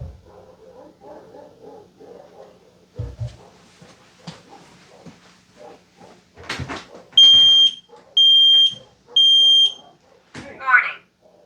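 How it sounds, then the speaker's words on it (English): An X-Sense smart Wi-Fi smoke detector in a workshop sounds three loud, piercing shrill beeps in even succession, preceded by people talking and scattered handling noises, with a brief squeal after. "We're just going to create some smoke for the smoke alarm just to make sure that everything's working the way that it's supposed to"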